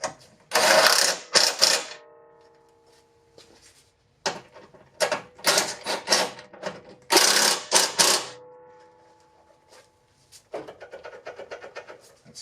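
Bolts on the fuel rail of a 2008 Acura MDX are tightened with a ratchet, giving loud bursts of rapid clicking separated by pauses, close to the listener.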